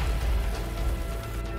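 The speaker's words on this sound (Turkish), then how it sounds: "Yağmur başladı." Rain pouring down in the survival video game DayZ, a dense, steady hiss of falling drops heard alone over a short stretch.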